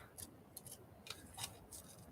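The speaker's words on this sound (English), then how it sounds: "Maybe should use smaller scissors." Scissors cutting paper, several crisp snips spaced irregularly across two seconds, close and fairly quiet with no talking.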